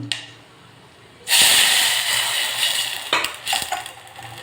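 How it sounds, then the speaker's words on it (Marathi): A sudden loud sizzling hiss erupts as water hits whole spices fried in a hot pan, then keeps steaming with a few metal clinks of a utensil. "टाकणार आहे मी ग्लास पाणी"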